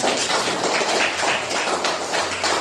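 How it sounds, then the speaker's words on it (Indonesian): A group applauds together in a school coaching session, a dense, steady burst of clapping that stays fairly loud and close throughout. "tepuk tangan untuk kita semuanya."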